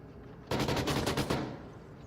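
Gunfire in the VR shooter Onward, a close burst of rapid automatic shots lasting under a second, then a quick fade into quiet background.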